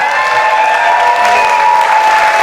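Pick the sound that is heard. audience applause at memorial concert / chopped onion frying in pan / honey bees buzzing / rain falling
audience applause at memorial concert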